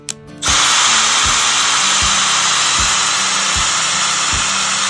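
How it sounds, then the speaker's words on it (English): A power drill driving the seat tracks of a 1960 Cadillac limousine whirs loudly and steadily after a brief start, with a faint rhythmic clunk repeating about every second beneath the motor. "we're going to hook it up to a drill"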